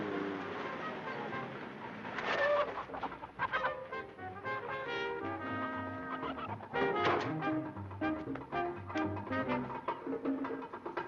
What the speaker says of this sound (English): they're carrying a load of chickens.